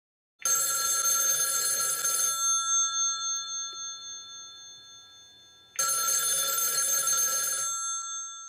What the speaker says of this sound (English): At the same time, your payphone rings.